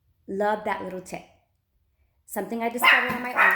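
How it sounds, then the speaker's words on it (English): Dogs bark in two bursts of sharp, repeated yaps close by, with someone talking over and between them. "Sorry that my dogs are barking."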